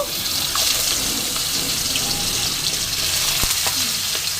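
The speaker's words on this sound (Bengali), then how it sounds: "আমি সর্ষে তেল কড়াইয়ে দিয়ে দিয়েছি এবার আমি রুই মাছের মাথাটা ভেজে নেব" A continuous close-up sizzle and crackle of a rohu fish head frying in hot mustard oil in a wok, with faint clinks in the background.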